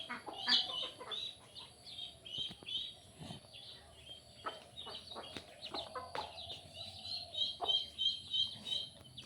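Yard poultry, chickens and ducks, cluck and call in a busy overlapping stream, with sharp chirps and squawks scattered across the whole stretch, moderately near and fairly quiet.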